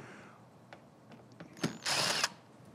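A power tool removing screws from the cover of a powered PA speaker, with a few faint clicks and handling taps, then a short sharp burst and a loud half-second whir of the driver.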